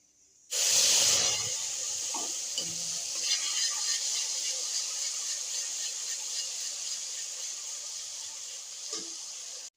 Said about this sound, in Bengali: এদিকে তেলটা গরম হয়ে গেছে, এখন আমি খাখরার মশলাটা দিলাম